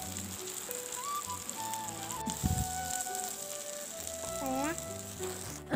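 Small mackerel pieces frying in a pan in a home kitchen in Malappuram, a soft steady sizzle running under faint background household sounds and tonal clatter.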